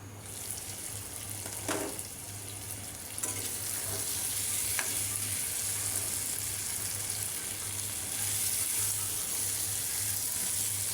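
Pabda fish and eggplant sautéing in a pan, giving a steady close sizzle and fry hiss throughout, with a few brief stirring clatters and no talking.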